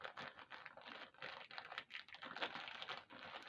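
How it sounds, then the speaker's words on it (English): Sellotape peeled off a plastic bag, making a close, loud run of crackly, rapid ripping bursts with brief pauses between pulls. "Sorry, it's a bit loud, that sellotape, isn't it?"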